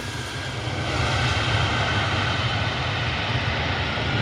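United Airlines flight 334, an Airbus A319 arriving from Newark, passes over at Cleveland's airport with a steady, broad engine roar that swells slightly and holds throughout.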